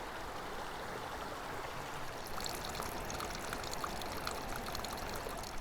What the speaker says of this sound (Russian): Вода сочилась буквально отовсюду.